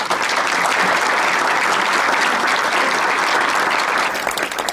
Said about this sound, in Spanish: para el que voy a pedir un aplauso, por favor.